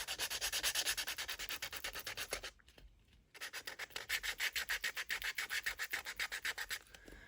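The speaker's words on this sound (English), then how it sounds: "I'm going to take my sandpaper" Sandpaper is rubbed briskly back and forth over a photo, making rapid, rhythmic scratchy strokes close up. The strokes pause for a moment partway through and then start again at the same steady pace.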